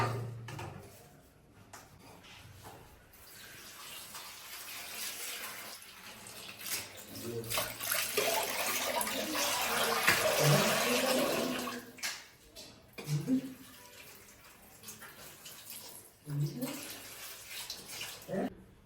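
Tap water runs steadily over strawberries being washed in a kitchen, a continuous close splashing rush that swells in the middle, while a person talks over it.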